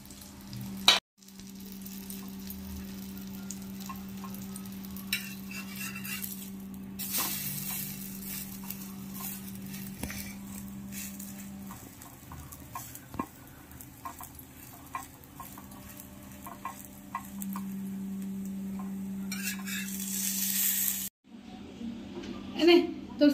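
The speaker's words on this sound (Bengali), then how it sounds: "এইবার এই পাউরুটিটা এর উপর দিয়ে দেবো, তারপরে ডিমের গোলায় ভাজবো" Bread slices frying in beaten egg batter in a home kitchen pan, a steady low sizzle running throughout with brief clatter and stirring, under intermittent talk.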